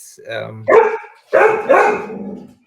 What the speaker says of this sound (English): I won't say the word, or they'll start barking even more